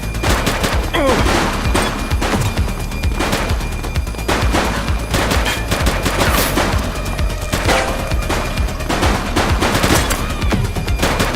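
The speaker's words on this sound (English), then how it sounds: "Shots fired!" Heavy gunfire rings out during a police shootout in the video game The Precinct: loud, rapid bursts and repeated sharp shots run almost continuously, close up, with little talk between them.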